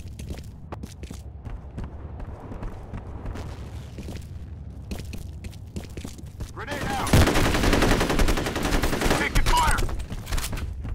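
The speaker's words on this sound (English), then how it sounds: "Taking fire." Gunfire in the video game F.E.A.R. during a team deathmatch: scattered single shots and short bursts, then a dense, loud volley of rapid automatic fire with a heavy boom partway through, and a voice calling out briefly.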